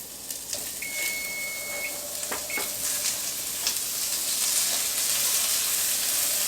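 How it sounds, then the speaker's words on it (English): Six tablespoons of unsalted butter sizzling in a hot pan with almonds, a continuous crackling fry with a few soft clinks and scrapes, plus a short electronic beep early on. "6 tablespoons of butter that we're just going to add in."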